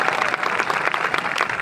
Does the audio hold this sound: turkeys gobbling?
no